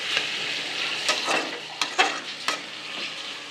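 Pepper chicken fries in a pan under a soft, steady sizzle, while a spoon stirs it with several distinct scraping strokes at irregular intervals, close up and without talk.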